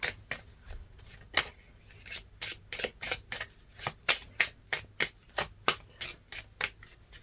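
Tarot cards dealt by hand into piles, a steady run of about twenty crisp card snaps and slides close by, evenly spaced roughly every third of a second, with no talking.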